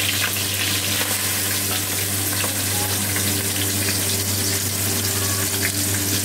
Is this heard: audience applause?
no